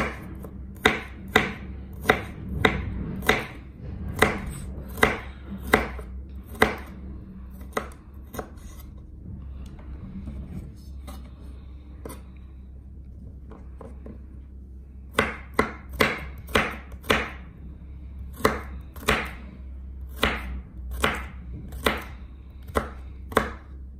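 Knife chopping onion and garlic on a cutting board, a rapid run of sharp, close, evenly spaced taps, then a quieter pause with a few scattered cuts before another steady burst of chopping, with no talk.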